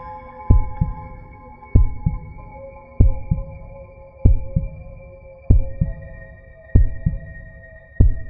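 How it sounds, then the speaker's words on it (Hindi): A heartbeat pounds in a horror short, steady double thumps repeating about every second and a quarter over a low sustained hum, loud and close with no talk. "जैसे जैसे वो लोग आगे बढ़ते गए, वैसे वैसे मेरी दिल की धड़कनें तेज होने लगी।"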